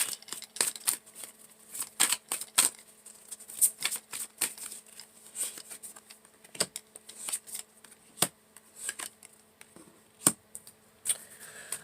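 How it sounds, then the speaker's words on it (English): Tarot cards shuffled and drawn from a deck, a long run of quick riffling flicks and crisp snaps at close range, irregular in rhythm, with no one talking. "I'm going to pull a few more cards."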